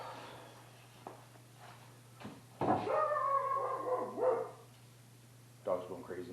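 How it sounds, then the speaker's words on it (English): A dog barks and howls in a garage, moderately close, in a few agitated bursts of yelping and whining over a steady electrical hum. "Dog's going crazy."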